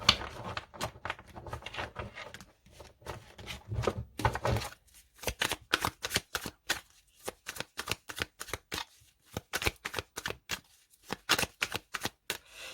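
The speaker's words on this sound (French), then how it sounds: "je mélange un petit peu, on fait une coupe" A deck of tarot cards is shuffled in a run of quick, crisp riffles and taps, followed by a steady series of close slaps and flicks as the deck is cut and squared.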